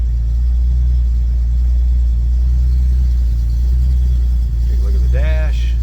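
A 1976 Datsun 280Z coupe idling after a cold start, with a loud, steady low rumble throughout and a brief higher voice-like sound near the end.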